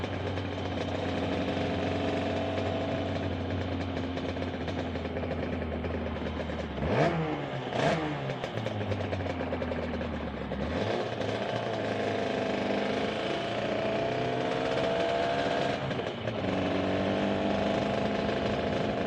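Suzuki RG400 two-stroke motorcycle engine running loud and close, a steady buzzing drone with two sharp revs in the middle and further rises and falls in pitch after.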